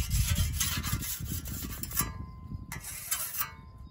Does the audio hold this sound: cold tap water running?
no